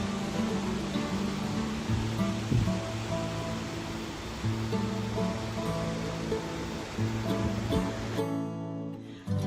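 Waves washing onto a Texas beach at sunrise, a steady broad wash of surf with a faint low hum underneath, continuous and moderately loud before dropping away at the end.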